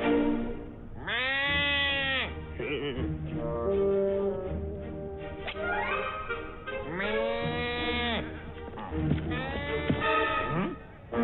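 Cartoon characters vocally imitate goat bleats in a Hindi animated film, with repeated wavering, nasal bleating calls from several voices trading back and forth over a steady background hum.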